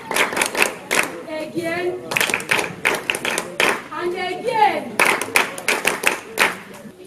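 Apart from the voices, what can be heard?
children clapping their hands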